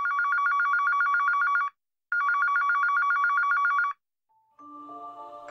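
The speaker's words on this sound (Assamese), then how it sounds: "ঐ ফোনটো ৰিং হৈ আছে উঠোৱা নাই কিয়" A telephone rings in two loud, close bursts of rapid trilling bell tone separated by a short pause, then gives way to a few brief electronic tones.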